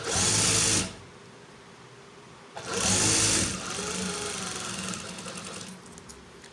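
An electric sewing machine stitches a kameez seam, running in two loud bursts of rapid whirring separated by a quieter pause, then a lower steady running sound near the end.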